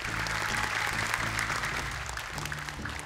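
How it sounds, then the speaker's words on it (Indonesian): Studio audience clapping for two young child contestants on a Quran memorisation talent show: brisk, even applause from a crowd, moderately loud, with a low music bed running underneath throughout. "Boleh tepuk tangan dulu untuk mereka berdua"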